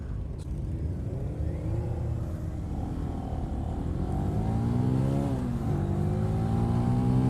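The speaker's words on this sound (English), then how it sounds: "revving this bike to its eyeballs, and I'm not breaking any laws yet" A 2018 Benelli TNT 135 motorcycle engine revs hard and continuously, its pitch climbing through the gears with a brief dip before rising again, loud and close with no talk.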